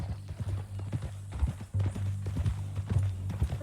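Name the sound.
horse hooves walking in Red Dead Redemption 2 video game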